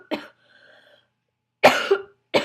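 Two sharp, close coughs separated by a pause, with a third beginning at the end, each a harsh burst from a person who has been coughing for days.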